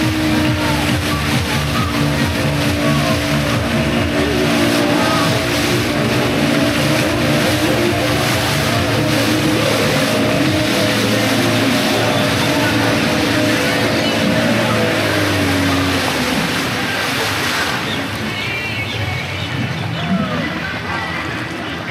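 An amusement park ride at Green Valley Park roars through its run, a loud continuous rumble and whoosh of machinery with wind noise throughout, easing off toward the end.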